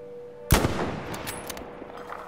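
A Krag Jorgensen rifle firing in Battlefield V: a single sharp, loud shot ringing out against quiet ambience, followed by a decaying tail and faint scattered clicks.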